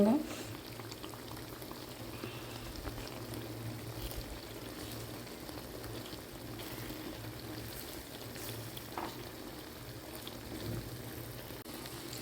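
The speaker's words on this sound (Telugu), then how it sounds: "మీడియం ఫ్లేమ్లో పెట్టి ఈ వంకాయలన్నీ ఫ్రై చేసుకోవాలి." Eggplant pieces with ginger fry in a pan over a medium flame, giving a steady, unbroken sizzle that stays at an even level throughout.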